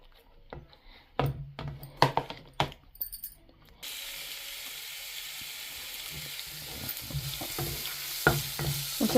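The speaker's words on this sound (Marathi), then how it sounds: "सो हांव तितून कांदो घालता." Onion dropped into oil in a pan on a slow flame, with a few clinks and stirring scrapes before a steady, close sizzle sets in and continues with occasional stirring.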